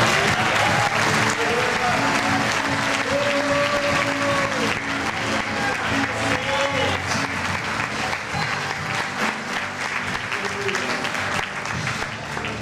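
A church congregation applauds during a Sunday worship service, steady, dense clapping filling the room for several seconds, with voices calling out and singing faintly over it.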